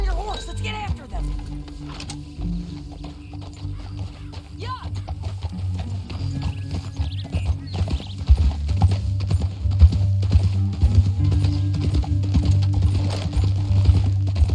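Horse hooves clip-clop at a riding pace in Red Dead Redemption 2, a steady rhythmic beat with an occasional whinny, while voices talk over the ride.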